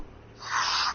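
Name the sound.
sneeze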